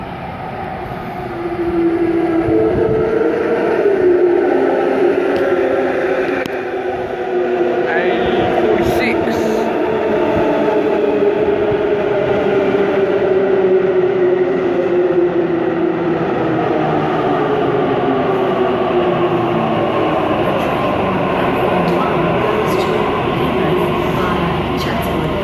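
A Sydney Waratah electric train pulls into a station platform at Macquarie University, a loud sustained rumble with rising and falling motor whine that holds steady as it rolls in close by.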